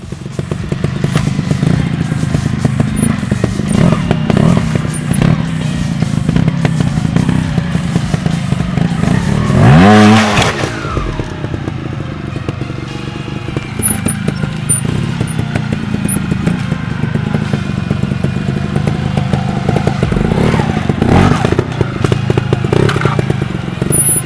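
A trials motorcycle picks its way through a section, its engine burbling and revving in bursts, with clattering, thudding and scraping as the bike climbs over obstacles and a sharp rising rev near the middle.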